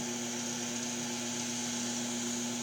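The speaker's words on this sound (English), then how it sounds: "we are going to start the sanding" A steady lathe whir with a constant high, gritty hiss of sandpaper on the spinning wooden shaft of a Tibetan spindle, even and uninterrupted, with no talking.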